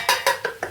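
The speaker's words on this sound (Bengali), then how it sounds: "সেই সর্ষে বাটাটা আমি একটা বাটির মধ্যে নিয়ে নেব।" Four quick, light clinks of a spoon against a bowl while mustard paste is scooped in, evenly spaced and close.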